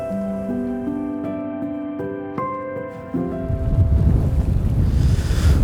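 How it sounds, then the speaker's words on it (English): Strong southwesterly wind buffets a lake shore, a rough broadband rush that swells louder in the second half, with sustained tonal notes and a few knocks over it at first. "It's a very strong southwesterly wind."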